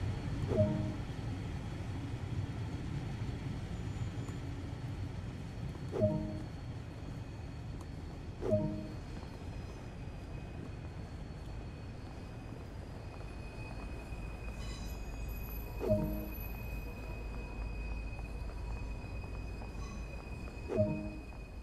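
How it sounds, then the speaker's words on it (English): An LMS Stanier Class 8F steam locomotive in BR black livery runs in Train Sim World 2, giving a low, steady rumble broken by sharp metallic clanks every few seconds, with a faint high whine above. "we'll be learning how to drive an LMS Stania Class 8F steam locomotive"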